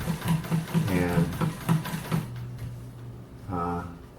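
Sewing machine running straight stitches during machine quilting of a peacock quilt, a close, rapid rhythmic whirring in short bursts that stops partway through, with one brief later whir.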